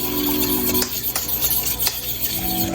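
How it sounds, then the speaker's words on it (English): A fork stirs and mixes a thick parmesan cheese bread spread in a bowl, giving soft scraping, clicking strokes close by with short pauses between them and no talking. "Take your fork, mix all that up really nice and good"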